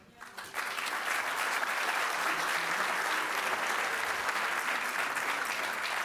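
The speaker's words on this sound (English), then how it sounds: "please also join me in applauding our fantastic jury" A large audience at a European leadership awards ceremony applauds the jury, the clapping swelling quickly into a loud, even, sustained roar of hands that fills the hall.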